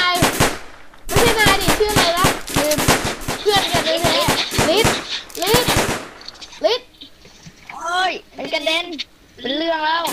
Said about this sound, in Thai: มันยิง มันยิงลูกไฟใส่เราอะ